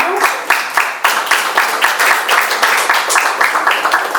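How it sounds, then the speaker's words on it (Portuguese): A crowd at a public assembly meeting breaks into loud, sustained applause, dense rhythmic clapping filling the room close up for several seconds. "Eu queria até pedir uma salva de palmas das autoridades para a comunidade"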